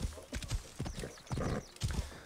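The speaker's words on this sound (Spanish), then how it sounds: "Bueno, el caballo." Horse hooves clip-clop at a steady gait in the video game Assassin's Creed Origins, with a few brief pauses in the rhythm and no talking.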